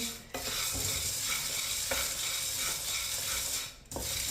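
Makhana and chana dry-roasting in a pan over low heat, stirred continuously with a spoon, giving a steady scraping, rattling stir with soft sizzle throughout and a couple of sharper spoon knocks.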